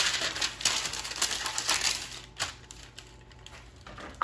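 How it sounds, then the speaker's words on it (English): Parchment paper is laid onto a baking sheet for oven-baked bacon, producing close crinkly rustling and crackling with a few light taps, busiest at first and then thinning out. "The first step would be to line our baking sheet with parchment paper so there is no sticking"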